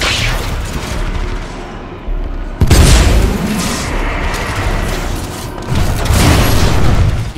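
Continuous weapon fire from an unlimited-ammo gun in the shooter game Titanfall 2, dense booming bursts with a heavy thump near the middle, loud and sustained throughout with no talking.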